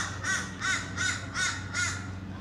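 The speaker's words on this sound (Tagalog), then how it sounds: "That's the sound of a raven." Five harsh crow or raven caws repeat at an even pace, loud and clear outdoors along a riverside walk in Brisbane, Australia, over a steady low background hum.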